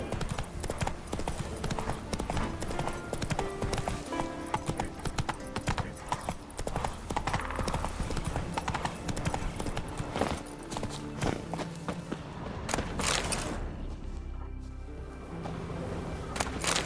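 Steady rapid hoofbeats of a horse galloping in the Witcher 3 video game, a continuous close clip-clop rhythm throughout with faint background game sounds and a brief voice.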